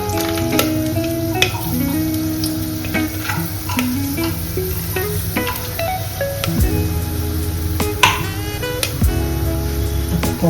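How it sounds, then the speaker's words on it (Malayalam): Black peppercorns crackle and pop in hot oil for a chicken stew, a steady close sizzle broken by frequent sharp snapping pops and some stirring scrapes, with no talking. "എനിക്ക് ആ കുരുമുളക് ഇങ്ങനെ പൊട്ടിക്കിടക്കുന്ന ഇഷ്ടമാണ്."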